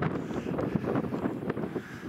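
Wind gusting across an open fell at a wild camp in the Lake District hills above Wasdale, buffeting the microphone with a low, rough rumble that rises and falls.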